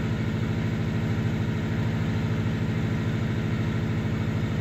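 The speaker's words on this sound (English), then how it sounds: "I just want to let the revs come down" A turbocharged JDM Subaru engine idles after a cold start as its revs settle, a steady, loud, close burbling pulse with no voices.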